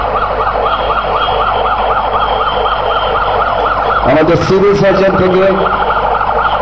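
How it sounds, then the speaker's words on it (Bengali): An ambulance from the Sylhet civil surgeon's office wails with a rising and falling siren at an airport crash scene, steady and prominent, while someone speaks briefly over it near the end. "একটি অ্যাম্বুলেন্স এসে পৌঁছে গেছে"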